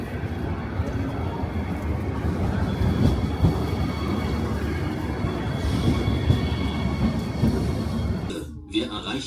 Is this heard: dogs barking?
no